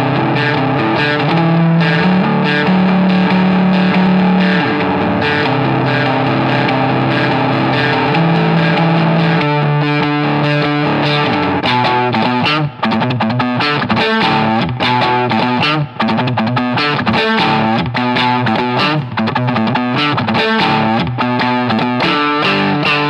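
Electric guitar with a Fender-like tone, tried out in a guitar store, playing a song. Loud, steady sustained chords give way to a busier picked and strummed passage, with no talking.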